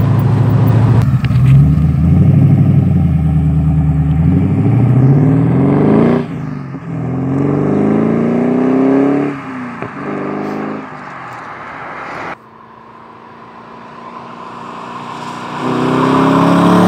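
A Morgan Plus 8 with an upgraded 270 cam, RPi Engineering ignition and chipped ECU cruises in fifth gear, its engine droning loud and close with rising and falling revs, dipping quieter after midway.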